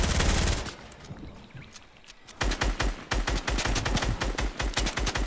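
An SMG fires rapid bursts in the Fortnite video game, loud and close: a dense volley, then a short lull, then long stretches of fast, sharp shots.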